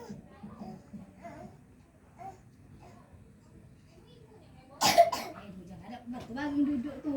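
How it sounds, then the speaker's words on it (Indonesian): A single sharp cough bursts out midway, followed by a second softer one, amid quiet background voices and murmuring. "Benar, batuk segitu tuh."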